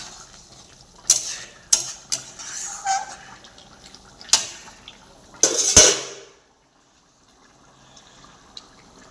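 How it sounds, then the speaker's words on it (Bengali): A spatula scraping and knocking against a pan while stirring soybean curry cooked with boiled tomato, several sharp metallic taps and scrapes close by, then near silence. "এই দেখুন সয়াবিন হচ্ছে, আমি খুন্তিতে নাড়িয়ে দেখাচ্ছি"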